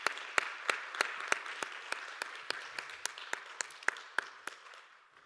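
Church congregation clapping to give glory during a youth worship service: a steady, evenly spaced run of sharp claps that moves in unison and fades out at the end.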